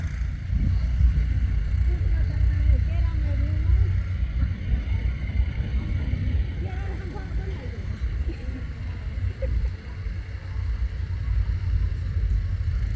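Several tractors pulling laser land levelers on a farm, a steady low engine rumble at middle distance with wind buffeting the microphone, and people talking over it.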